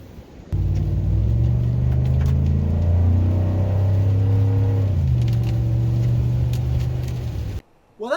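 A 2011 Ford F-150 pickup's engine drones steadily while driving, a loud, continuous low rumble that rises slightly in pitch then settles, with no talking over it.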